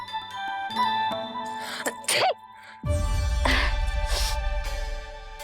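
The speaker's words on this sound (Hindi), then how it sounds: "अभी छींक आई ना" A single sharp sneeze bursts out over a soft background of sustained tones and faint tinkling, followed by a low rumbling bed of sound.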